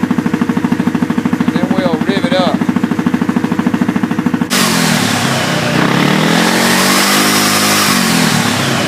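A Yamaha Wolverine engine idles with a steady, fast pulsing putter, then a louder, rougher whirring or rubbing noise takes over midway and continues to the end.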